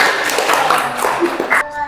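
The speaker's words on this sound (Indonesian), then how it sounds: "Tepuk-tepuk tangan untuk kelompok Punggawa Malolo." Students in a classroom applaud a presenting group, a close, dense burst of clapping that holds for under two seconds and then cuts off abruptly.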